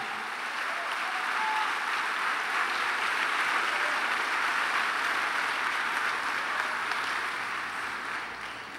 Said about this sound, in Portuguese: Aplauda o Senhor, aplauda com alegria o nosso Pai.